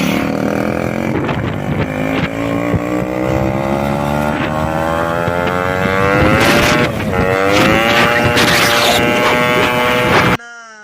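A Yamaha RX 135 two-stroke motorcycle is ridden, its engine revving loud and close with rising and falling pitch as it moves through the gears, ending abruptly.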